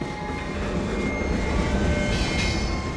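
A train braking on Tito's railway in the former Yugoslavia, a steady loud rumble of wheels on rails with a faint high brake squeal rising on top, heard close from on board.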